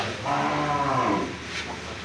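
A single cow moos nearby, one long low drawn-out call, followed by quieter farmyard background.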